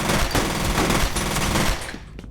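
AI soldiers in F.E.A.R. firing while running to cover: loud, close, sustained automatic fire that rattles on for nearly two seconds, then breaks off into a few scattered shots.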